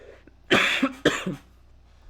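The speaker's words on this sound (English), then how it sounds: "Excuse me while I cough and take a sip of water." Two sharp coughs in quick succession, close and fairly loud, followed by quiet.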